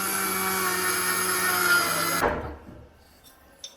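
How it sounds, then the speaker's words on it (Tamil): A kitchen mixer grinder whirs loudly and steadily while grinding roasted sesame seeds, its motor tone holding high and strong before cutting off abruptly and spinning down, followed by a small clatter. "இந்த மாதிரி மிக்சியில் வந்து அரைச்சி போட்டுக்கலாம்."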